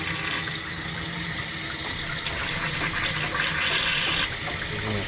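Water gushes and drains steadily from cut house water lines during a utility sink installation, a constant rushing wash that holds at a fairly even level and comes from close by.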